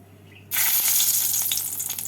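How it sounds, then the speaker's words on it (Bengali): Two dried red chillies dropped into hot mustard oil in a kadai for tempering, giving a sudden loud sizzle that bursts in and keeps crackling close up. "কড়াইয়ের মধ্যে দিয়ে দেব পরিমাণ মতো সর্ষের তেল তেলটাকে ভালো করে গরম করে নিয়েছি এবার এর মধ্যে ফোড়নে দেব দুটো শুকনো লঙ্কা"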